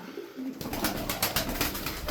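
Pigeons at a bird seller's coo close by, a soft note first, then a denser flurry of cooing and wing or body rustles that stays moderately loud to the end.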